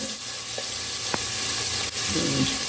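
Cumin seeds hit hot oil for a vada pav chutney, setting off a loud, close, continuous sizzle with a couple of brief clicks from the pan or spoon.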